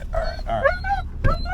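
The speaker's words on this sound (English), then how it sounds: "Okay. Crazy dog." A dog yips, barks and whimpers in short, close, excited bursts outdoors near mud.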